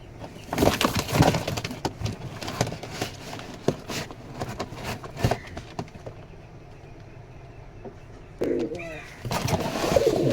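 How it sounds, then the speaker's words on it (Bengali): A pair of round fantail pigeons coo softly amid rustling and handling noises while being packed into a carton at home, with occasional sharp knocks. "এক জোড়া গোল ফটকা কবুতর"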